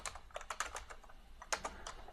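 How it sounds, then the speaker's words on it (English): Quick, light clicks of typing on a computer keyboard come in two short irregular bursts, close and fairly quiet. "I can just start typing in CMD"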